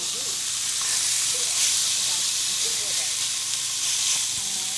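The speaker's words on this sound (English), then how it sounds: "I'll let this guy get a good sear." Steaks searing in a hot pan give off a steady, close, broadband sizzle that hisses evenly throughout, with faint crackles and no voices.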